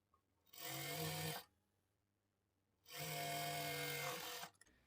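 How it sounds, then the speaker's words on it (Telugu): Sewing machine stitching a shaped belt for a lined blouse, running in two sustained motor bursts of about a second and a half each, separated by a quiet pause, close and steady. "ఇప్పుడు ఇక్కడ నుంచి స్టార్ట్ చేసుకొని పావించి మార్జిన్తో స్టిచ్ చేసుకోవాలి."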